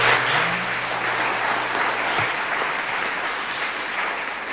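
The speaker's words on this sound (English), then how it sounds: "Can we give them a round of applause?" A round of applause for panelists closing a renewable energy university session, many hands clapping in a steady, even roar that holds for several seconds, with a brief low murmur near the start.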